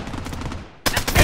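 Gunfire in a Project Bloodstrike shooter match, starting with a muffled rattle of distant shots, then a sudden loud, close burst of rapid fire.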